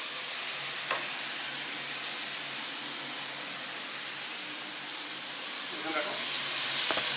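Tomatoes dropped into a hot frying pan give a steady broadband sizzle and hiss, with faint stirring scrapes now and then, heard close in a home kitchen with no talk.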